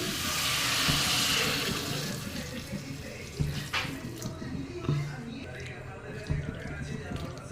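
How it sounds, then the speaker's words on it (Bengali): Water is poured into a pan of lightly fried vegetables for a Chinese-style vegetable dish, a rushing splash that fades into bubbling and light clinks, heard close beneath someone speaking. "পরিমাণ মতন আমি পানি দিয়ে দিচ্ছি"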